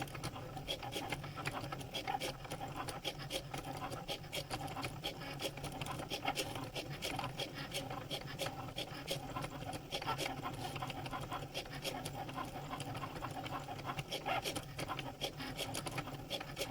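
A Cricut Maker cuts a lantern tile ornament with a steady, close mechanical buzz and faint scratchy rasping that continues evenly throughout.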